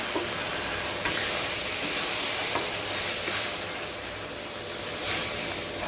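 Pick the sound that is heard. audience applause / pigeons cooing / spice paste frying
spice paste frying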